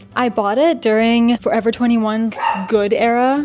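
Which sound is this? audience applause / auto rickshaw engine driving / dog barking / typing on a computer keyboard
dog barking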